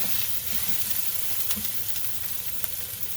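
Cumin stirred into a frying Kerala-style fish peera mixture with shredded coconut, a continuous soft sizzle with light scraping stirs, close and even, no voices.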